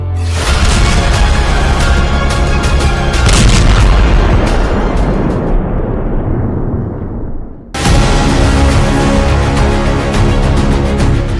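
Heavy explosions from airstrikes on Beirut boom and rumble almost continuously, loud and dense. The blasts roll and decay, a short break follows, then a fresh blast hits and the roar continues.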